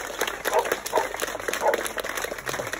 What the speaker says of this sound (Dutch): Dus nog even een keihard applaus voor die helden hier.